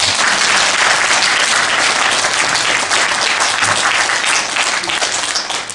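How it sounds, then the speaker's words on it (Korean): An audience at a lecture gives dense, sustained applause for Vietnam War veterans, steady close clapping that tapers slightly at the end. "이분들 위해서 우리가 격려의 박수 부탁할까요?"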